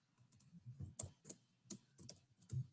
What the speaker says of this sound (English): Next step, you're going to type in your name